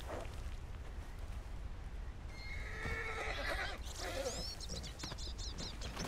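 A horse in Red Dead Redemption 2 neighs and whinnies in a rising, wavering call near the end, over steady outdoor game ambience with faint hoof clip-clop and low rumble.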